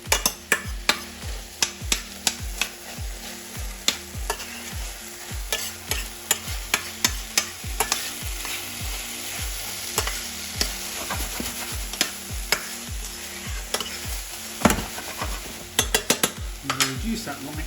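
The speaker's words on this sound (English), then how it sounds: "Then we're going to Throw in our rum, a little bit of rum in there. I'll deglaze the pan a bit." Rum splashes into a hot pan beside jerk trumpet mushrooms, setting off a loud sizzle as the pan deglazes, with frequent sharp clacks of a utensil scraping and stirring against the pan throughout.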